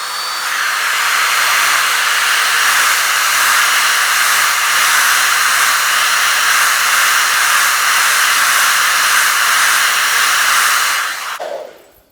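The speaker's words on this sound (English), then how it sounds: "you can just use a regular blow dryer to try and hurry it along" A regular handheld blow dryer runs continuously up close while drying paint, giving a steady loud airy whoosh that holds level for about eleven seconds before clicking off and fading out.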